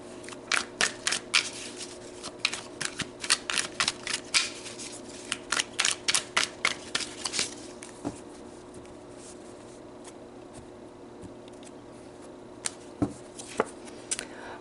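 Oracle cards being shuffled and pulled, a quick run of crisp papery flicks and snaps close by, thinning out into scattered single taps against a quiet room.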